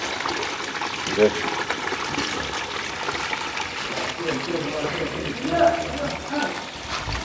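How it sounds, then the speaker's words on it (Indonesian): Water is pumped out of a newly dug well and pours in a steady, close rushing gush. Talk runs over it throughout. "dan sekarang diuji cobakan, disedot airnya"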